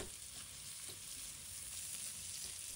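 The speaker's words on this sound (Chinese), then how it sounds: "再把干虾放入锅中，把它的香味给它炒出来" Dried shrimp stir-fried in a hot wok, a faint, even hiss of frying with soft scraping, steady and unbroken for a few seconds.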